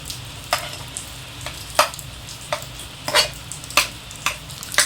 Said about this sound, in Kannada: ಈಗ ಇದ್ರೊಳಗೆ ರೈಸ್ ಮಿಕ್ಸ್ ಮಾಡೋಣ